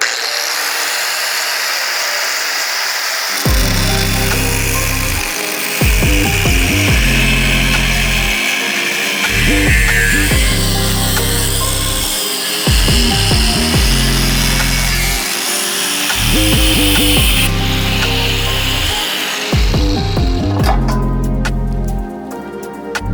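A power tool cuts through the aluminum bell housing of a CD009 transmission, a loud continuous grinding whine with a pulsing low chug repeating every couple of seconds, close up and with no speech.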